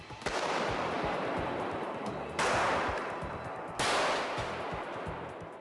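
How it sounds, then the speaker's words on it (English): A gun test-fired with a simultaneous release rig gives three sharp, loud blasts, each trailing off in a long noisy decay, spaced about two seconds apart, with no talk. "So the new simultaneous release system is ready for a test fire."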